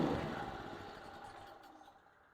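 Wen 4750W portable generator engine running outdoors, a steady mid-pitched engine drone that fades down steadily as it is being switched off.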